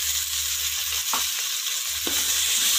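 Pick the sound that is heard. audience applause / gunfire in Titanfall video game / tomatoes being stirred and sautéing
tomatoes being stirred and sautéing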